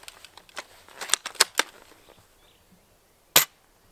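A rapid run of sharp smacking impacts as airsoft pellets from an M40A3 McMillan sniper rifle hit a hard board and cardboard target, several close together, then a pause and one final loud hit.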